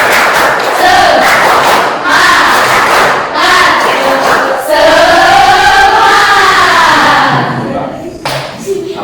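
A classroom of children chants and cheers loudly in unison, with rhythmic clapping and thumps punctuating the shouted phrases.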